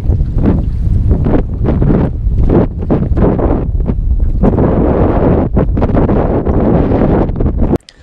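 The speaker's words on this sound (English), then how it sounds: "It is super windy out." Strong wind roars and buffets the microphone outdoors on a spring walleye fishing outing, loud and continuous with gusty surges throughout, cutting off abruptly at the end.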